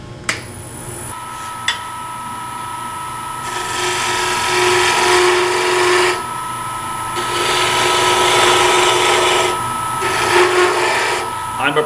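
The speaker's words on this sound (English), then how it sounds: "to use is going to be my spindle roughing gouge. This is a cove cut, big, long cove." A spindle roughing gouge cuts a long cove in wood spinning on a lathe, a loud steady scraping hiss over the lathe's hum, swelling and easing in long passes with a few sharp ticks.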